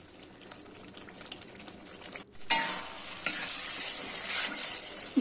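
Masala paste stirred and frying in oil for a village-style Lote fish curry, a steady close sizzle with scraping spoon strokes that grow louder after a brief lull midway.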